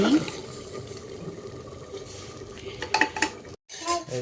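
Chicken stirred in a frying pan, with a spoon scraping and clinking against the metal over a steady low sizzle, plus a few sharper knocks toward the end, close up.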